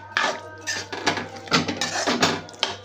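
Spoon or spatula scraping and knocking around a pan while melting jaggery is mixed, a series of irregular close clatters and scrapes.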